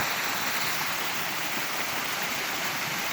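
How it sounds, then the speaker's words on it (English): Constant rushing water pours from the base of a western red cedar onto rock in a forest of fir and hemlock, a dense, even roar with no pauses. "appears to be spewing an artesian well of a waterfall"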